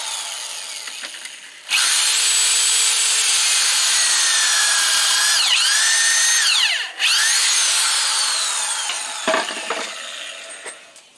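Power drill driving screws into the wooden frame of a garden shed under construction, two long loud whirring runs with pitch shifts as the motor loads and eases, close and alone.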